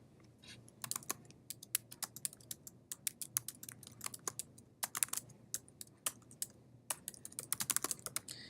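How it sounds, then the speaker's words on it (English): Rapid, uneven typing on a computer keyboard, close and clear, with sharp clustered key clicks and occasional pauses over a quiet room hum. "Let's just start typing"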